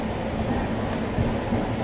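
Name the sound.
Sabari SF Express train arriving at Guntur Junction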